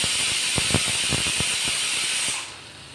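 A pressure cooker cooking Bombay duck and potato curry gives its second whistle, hissing steadily at high pitch, with rapid rattling clicks underneath, then fading out near the end.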